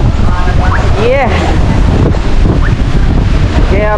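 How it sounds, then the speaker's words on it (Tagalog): Strong wind roars and buffets the microphone on a Boracay beach, with surf beneath it and brief shouted voices cutting through. "Uy, lakas ng hangin talaga."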